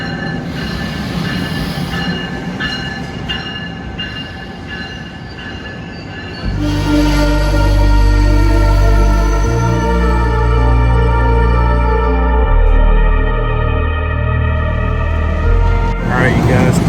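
An Amtrak train pulls into Penn Station, its loud rumble and long squealing wheels building as it arrives close by, with a rising bright screech near the end and faint voices in the station earlier.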